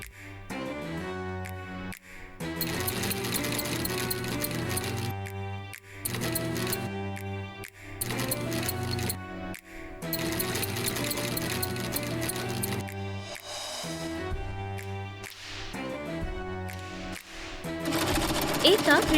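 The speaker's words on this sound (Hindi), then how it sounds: "सिलाई मशीन आ गई है।" A sewing machine runs in an animated cartoon scene, its steady mechanical whirr blended into continuous, fairly loud background music for the whole stretch.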